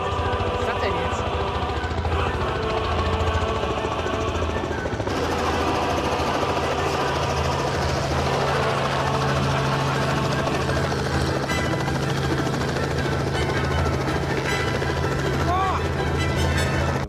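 A helicopter's engine and rotor roar steadily and loudly throughout, a dense mechanical drone with a thumping undertone.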